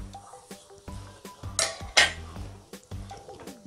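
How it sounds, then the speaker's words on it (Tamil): A spoon scrapes and clinks against a pan while semolina is stirred briskly for rava pongal, producing quick, uneven metallic strokes with a faint sizzle underneath. "ஒரு கையில் தூவிட்டு மறு கையில் கொஞ்சம் ஸ்பீடாக நீங்கள் கிளறி விட்டுக்கணும்"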